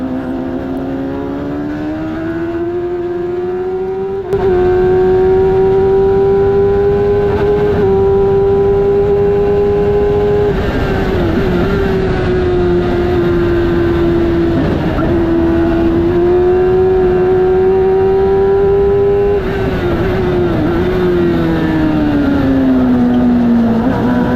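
A race car engine at Brands Hatch in the rain, a loud, close, sustained high-revving drone that rises and holds as the car accelerates, with slight pitch dips between gear changes, no talk.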